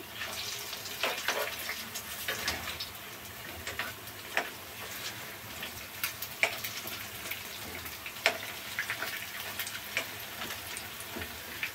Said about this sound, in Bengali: আমি প্রথম ব্যাচটা দিলাম, এটা হতে থাকুক। এক পিঠ হয়ে গিয়েছে, আমি উল্টিয়ে দিচ্ছি।